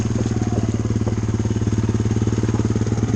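A Honda Fourtrax 300 ATV engine idles close by with a steady, rapid chugging pulse, loud and continuous throughout, no voices.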